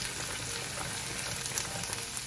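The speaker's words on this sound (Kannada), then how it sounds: "ಇವಾಗ ನಾನು ಇದಕ್ಕೆ ಪುದೀನ ಹಾಕ್ತಾ ಇದ್ದೀನಿ ನೋಡಿ ಅದು ಚಟ ಚಟ ಅಂತ ಹೇಳುತ್ತೆ" Fresh mint leaves crackle and sizzle as they go into hot oil in a pan while a homemade hair oil is prepared, a steady dense spatter with no talk.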